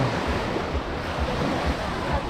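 Ocean surf rolling onto Tropea beach in Calabria, Italy, a steady close wash of waves with a soft rhythmic low swell and some wind buffeting the microphone, with no voices.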